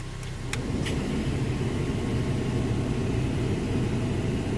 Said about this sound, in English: I heard the compressor kick under the engine